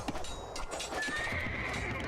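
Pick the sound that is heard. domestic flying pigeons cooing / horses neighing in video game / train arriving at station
horses neighing in video game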